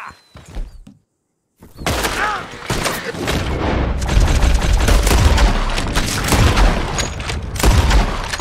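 Gunfire in Red Dead Redemption 2: a dense run of close, loud shots and impacts follows a brief pause and keeps going almost without break, mixed with game noise.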